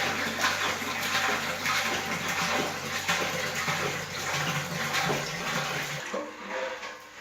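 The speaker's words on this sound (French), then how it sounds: "On ajoute l'eau de source." Spring water pours steadily into a terracotta jar for kefir, a continuous close splashing gush that runs for several seconds and then tapers off.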